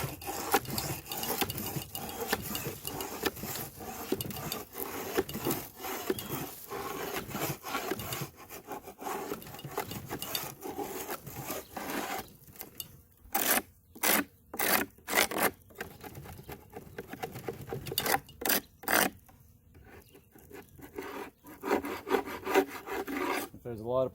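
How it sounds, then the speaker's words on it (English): Wooden top bars of a dead beehive scraped with a hive tool, giving a run of close, harsh rasping and scratching strokes, dense at first, then separating into sharp bursts with brief pauses between them. "Then I'll scrape the top bars."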